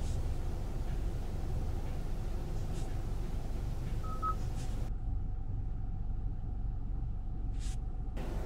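Inside a Kia XCeed, a single short dial tone rings out over the steady low rumble of the car, and then the sound cuts to near silence.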